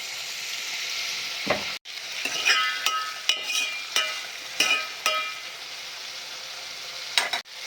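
Green onion and garlic frying in a pan for millet (bajra) khichdi alongside potatoes, a steady loud sizzle broken by a few sharp stirring clatters and bursts of spitting oil.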